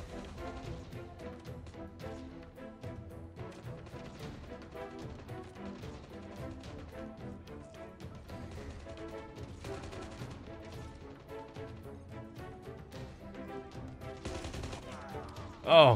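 Game gunfire from the Call of Duty Mobile shooter, with dense, continuous bursts of shots layered over busy in-game music and effects, fairly steady in level, with a sharp loud hit at the very end.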